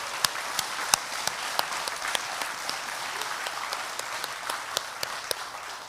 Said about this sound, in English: we may want to applaud for them